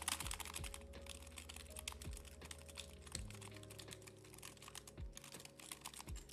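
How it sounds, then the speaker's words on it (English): Steady typing on a computer keyboard, with a continuous run of close, moderately quiet key clicks and no talking over it. "My keyboard's not that loud, surprisingly."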